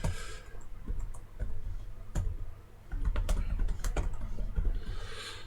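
Typing on a computer keyboard during an online rapid chess session, bursts of close, crisp key clicks with short pauses between flurries, no voices.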